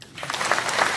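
Crowd applause at a public gathering in Bidar, with some of the audience standing outside for lack of chairs: a dense, steady clatter of many hands that swells after a brief softer start and holds at a fairly loud level.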